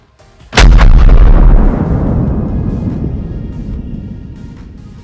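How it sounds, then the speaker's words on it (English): The noon cannon at Valletta's Saluting Battery in Malta fires a single loud, close blast that booms out and rolls away in a long fading echo across the harbour, with faint crowd murmur before it. "we didn't want to miss the firing of the cannons"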